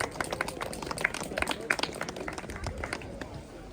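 Scattered clapping from a small crowd at a children's Santa Claus race prize ceremony, a girls' winner being applauded, sharp irregular claps close by with a speaker's voice carrying over them.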